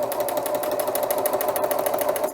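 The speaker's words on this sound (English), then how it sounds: "now I'm just going to chain a few stitches over my wire" A serger sewing machine chains stitches over wire with a fast, even mechanical whir and rapid rhythmic ticking, running steadily and close by with no talk.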